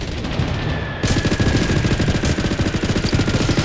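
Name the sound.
gunfire in the video game Blood Strike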